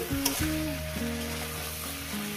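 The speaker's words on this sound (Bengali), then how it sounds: "দিয়ে দেবো পুঁই শাকের পাতাটা দিয়ে এটা আমি কষতে থাকবো" Malabar spinach leaves sauté with fish head in a hot pan for a Bengali chorchori, a steady close sizzle and frying crackle with stirring, under a faint tonal hum, no talk.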